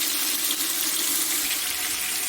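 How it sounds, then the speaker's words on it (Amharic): Hot water poured into a pot of frying meat for biryani, a steady loud rushing, hissing wash of liquid, close and continuous throughout, with no talking. "ጓደኞቼ አሁን እዚህ ጋር ሙቅ ውሃ ተለቅቄታለሁ።"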